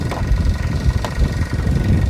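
A car engine idles at an Australian car auction, a steady low rumble with mild vibration running evenly throughout, close and fairly loud with no voices.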